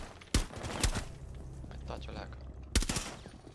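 Enemy gunfire in Rainbow Six Siege lands in a few sharp, separated shots against a murky in-game background, while a player speaks briefly.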